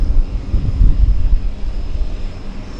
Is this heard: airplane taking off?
yes